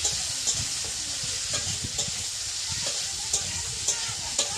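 Potatoes fry in oil in a wok, giving a dense, continuous sizzle up close, broken by regular scraping knocks of a spatula stirring them.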